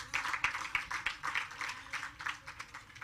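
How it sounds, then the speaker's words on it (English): An audience at a civil servant of the year awards ceremony claps in a steady, fairly distant round of applause with many overlapping hand claps and no voices. "Clap them again, one more time."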